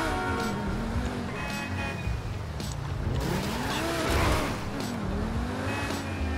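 A car in GTA 5 drives on a Los Santos road with a revving engine and repeated tire squeals and skids, loud and close, with no talking over it.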